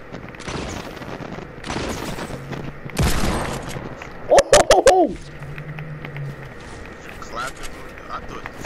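Hand cannon gunfire in Fortnite, a quick cluster of sharp loud shots midway, preceded by an earlier heavy blast and surrounded by quieter game noises, with people talking over it.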